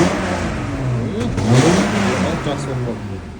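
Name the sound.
car engine revving when gas pedal pressed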